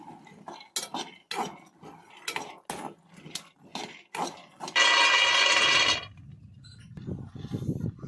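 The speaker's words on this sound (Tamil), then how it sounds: "இதை ஒரு அஞ்சு டு பத்து நிமிஷம் மிதமான சூட்டில் நல்லா ப்ரௌனாக வர அளவுக்கு நல்லா வறுத்து" Raw peanuts roasting in a pan over medium heat, stirred with a spoon that clinks and scrapes against the metal in a steady run of sharp knocks, then a loud dry sizzling rattle of nuts for about a second before quieter stirring.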